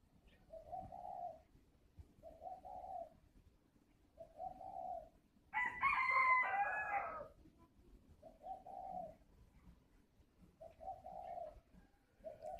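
Spotted doves coo in repeated soft phrases, a steady rhythmic series of low calls near at hand, broken midway by a brief burst of louder, higher chatter before the cooing resumes.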